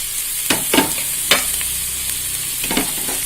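Onion, green chilies, small onions and ginger-garlic paste sizzle steadily in a pan for Kerala-style tapioca biriyani, broken by a few scraping stirs of a spoon, close and fairly loud with no talking.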